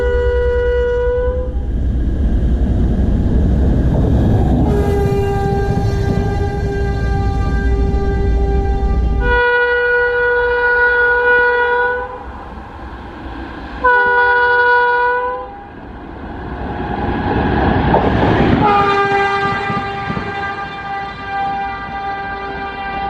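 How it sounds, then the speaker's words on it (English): A fast WAP5 electric locomotive train at about 135 km/h thunders past nearby on the Bengaluru–Chennai line with a steady rumble, its horn sounding repeatedly in long, loud blasts that rise and fade as it goes by. "The train was doing around 135 kilometers per hour this time."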